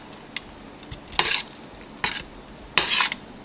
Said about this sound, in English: Add your corn in there.